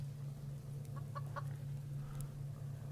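Chickens cluck in a few short bursts in the survival game Subsistence, faint and mid-distance over a steady low hum of ambient background noise.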